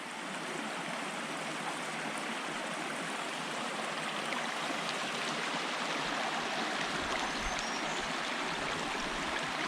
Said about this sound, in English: Well, we've reached yet another stream crossing.